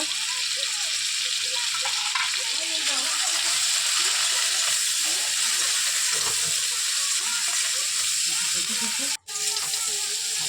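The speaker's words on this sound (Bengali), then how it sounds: "চিংড়ি মাছটা বেশি ভাজবো না, বেশি ভাজলে শক্ত হয়ে যাবে। একটু হালকা ভেজে তুলে নেব।" Prawns with salt and turmeric frying lightly in a pan, a steady close sizzle and hiss running throughout with faint stirring, briefly cutting out near the end.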